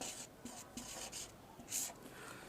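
Chalk or a marker scratches across a classroom board in short bursts of strokes, faint and close, with brief pauses between marks and no voice over it.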